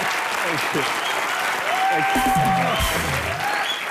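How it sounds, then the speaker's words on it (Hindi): Loud studio audience applause for a guest on a TV comedy show. The clapping is sustained and dense, with voices and tonal sounds rising over it partway through. "जोरदार तालियां एक बार सर के लिए"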